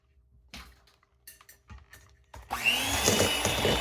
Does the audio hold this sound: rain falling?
no